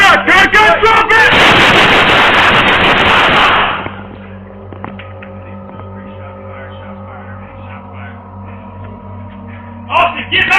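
A burst of gunfire in a hospital hallway, loud and dense for about three seconds after shouting voices, then dying away to a low hum before a voice returns near the end.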